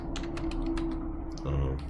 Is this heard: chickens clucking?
no